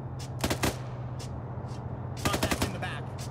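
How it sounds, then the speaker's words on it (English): Warning shots in a military co-op shooter game, two short bursts of rapid gunfire a couple of seconds apart, with smaller scattered shots between them over a constant engine drone. "Hit it with the warning shots."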